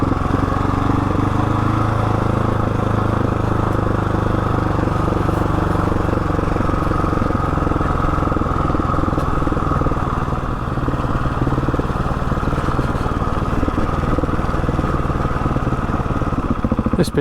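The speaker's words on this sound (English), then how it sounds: "Go down in first gear, see if the engine braking will hold it" A Husqvarna 701 Enduro engine holds steadily under engine braking while descending a steep hill in first gear, giving a continuous loud, rough drone with no voices.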